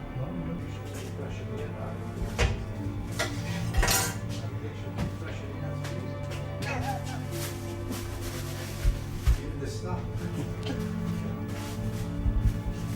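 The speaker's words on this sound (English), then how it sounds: "it comes in a great big block and we chop it up" A big block of old-fashioned butter chopped up at a shop counter, with scattered knocks and metallic clinks of utensils against a steady background hum while people talk.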